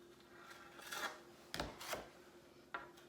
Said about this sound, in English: you're just going to take your scraper and just go smoothly out